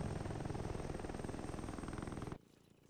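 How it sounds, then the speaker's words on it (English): Helicopter in the video game Arma 3, a dense rapid rotor chop and whine running loud and steady, then cutting off abruptly near the end, leaving faint background. "Cal, shoot at the helicopter"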